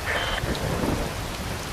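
A heavy storm in Metal Gear Rising: Revengeance, with dense rain pouring down beneath a deep rolling rumble of thunder, loud and continuous throughout the short stretch with no speech.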